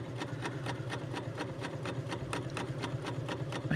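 A Bernina L890 sewing machine runs steadily through a decorative chain stitch, its needle ticking in a quick even rhythm about four times a second, close and fairly quiet, with no talking.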